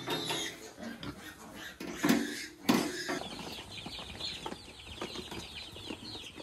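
Chickens and chicks on a backyard piggery farm cluck and peep in scattered bursts, with a couple of louder squawks and some animal grunting mixed in at moderate distance.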